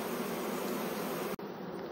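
Honeybees buzzing in an opened hive during early-season work, a dense continuous drone close to the microphone with no voices.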